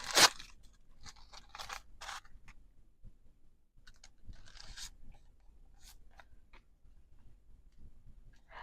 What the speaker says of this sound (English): Might as well use up some of this tissue paper.